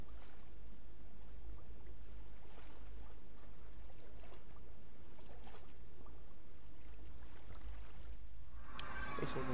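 A boat glides across water in Minecraft, a soft, steady sloshing and rushing that runs throughout at low level, ending with a brighter splash-like burst.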